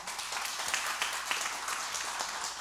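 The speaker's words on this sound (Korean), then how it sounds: "박수 한번 쳐줘요" Audience applause at a church revival service, steady dense clapping from a congregation lasting throughout at moderate level.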